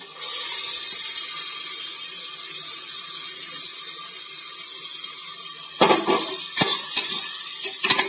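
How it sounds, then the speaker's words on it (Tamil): Chopped large onions sautéing in a pan as ground mint paste goes in for mint rice, a steady close sizzle with stirring and several sharp spoon scrapes and clinks toward the end. "பெரிய வெங்காயம் இது நல்லா வதங்கிட்டுப்பா இப்போ அரைச்சி வச்ச பேஸ்ட்டை ஊற்றிக்கிடுவோம்"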